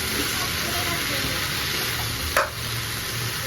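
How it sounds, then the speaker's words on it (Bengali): Greens (shak) sizzling in a hot pan, a loud, dense, continuous hiss that stays level throughout, with one brief clatter partway through. "আমি শাক রান্না করছি।"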